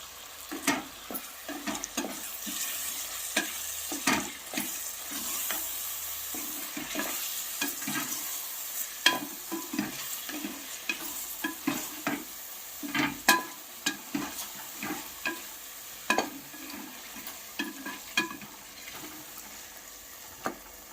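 Mutton sautéed with yogurt in a pan for biryani, a soft continuous sizzle with repeated scraping stirs and light clinks of a spoon, fairly quiet and close.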